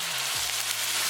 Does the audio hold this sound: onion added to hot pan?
yes